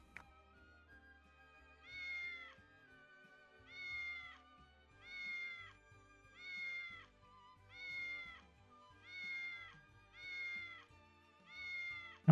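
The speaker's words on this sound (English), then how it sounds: "oh, there's a cat." Cat meowing in a VR strategy video game, eight clear, evenly spaced meows about a second and a half apart, each a drawn-out bright call over quiet background music.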